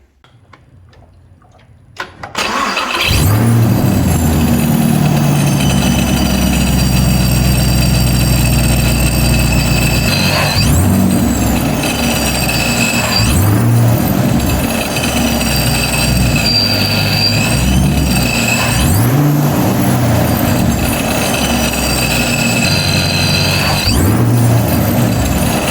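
A Chevrolet Camaro SS V8 fitted with a ProCharger supercharger cranks and fires after a quiet moment, then runs loud and steady, with a high whine that rises and falls with several throttle blips.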